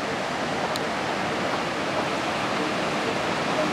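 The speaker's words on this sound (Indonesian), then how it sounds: "Seperti yang kalian lihat, deburan ombaknya" Surf breaking on Kuta Beach in Bali, heard as a steady, broad wash of waves rolling in, even and continuous without any talk.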